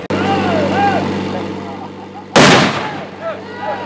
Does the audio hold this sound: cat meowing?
no